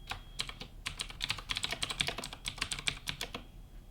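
Rapid typing on a computer keyboard, a dense run of close, crisp key clicks in an uneven rhythm, heard alone with no talking.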